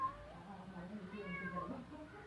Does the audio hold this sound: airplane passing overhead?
no